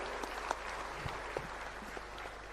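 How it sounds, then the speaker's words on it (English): Audience at an African human capital summit for heads of state in Dar es Salaam, Tanzania, applauds with a steady, moderately quiet clatter of many hands that holds evenly throughout. "let's give them a big round of applause as they take their seats back."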